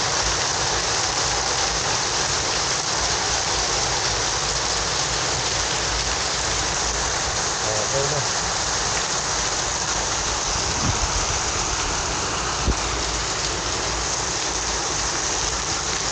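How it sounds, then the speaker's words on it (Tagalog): A downpour of heavy rain roars steadily and close by, with a couple of faint knocks near the end. "nakita niya naman ang lakas ng ulan, grabe, basa ako."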